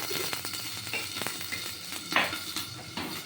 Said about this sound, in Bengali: আলুটাকে ঢেকে দিয়েছি ভাজা হচ্ছে